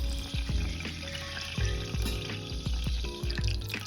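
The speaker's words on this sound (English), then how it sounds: "I added rosemary and bay leaves, and then let them fry briefly to release their fragrance." Rosemary and bay leaves fry in hot oil in a saucepan for a gizzard stew, giving a steady close sizzle with small pops and clinks of stirring throughout.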